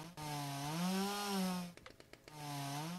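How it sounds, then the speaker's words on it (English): A chainsaw in the ZedFest zombie shooter video game runs loud and close, with a steady whining drone that sputters briefly midway and then revs back up. "Oh, I got, like, an actual chainsaw here."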